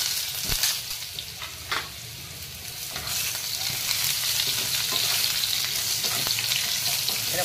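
Green mango pieces for a raw mango chutney sizzle steadily in hot oil in a pan, with occasional scrapes and knocks of a spoon stirring them, close and continuous with no talk.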